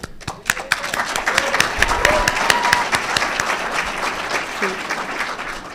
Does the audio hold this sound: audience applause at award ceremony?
yes